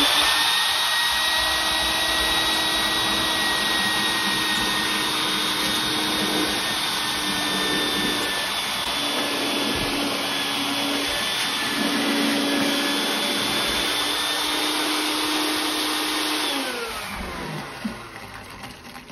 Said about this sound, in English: On the left, we have the Craftsman vac.